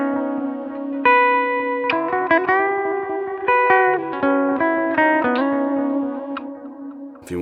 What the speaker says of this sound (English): you can have the sense of reverb or a space echo without it being in the way